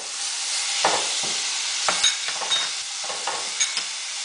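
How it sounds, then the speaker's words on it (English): Spices, cinnamon and dried lime stirred into beef frying with turmeric in a pot, a steady soft sizzle broken by several scraping, clattering stirs of the spoon, close and moderately quiet. "So now I'm going to stir in the limu amani, the cinnamon,"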